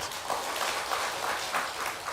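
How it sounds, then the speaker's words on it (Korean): A church congregation applauds during a Sunday worship service, with steady, even clapping that fills the room and carries on for a couple of seconds without pause. "박수하시겠습니다."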